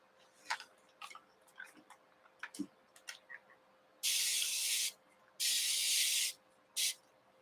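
A fabric Halloween heart quilt block is sprayed in three sharp hissing bursts, two long and one short, loud and close, after a few soft handling taps.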